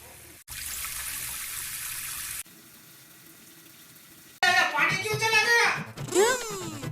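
A hotel-room tap runs in a steady, fairly loud gush for about two seconds, then drops to a quieter flow before voices take over for the rest of the clip.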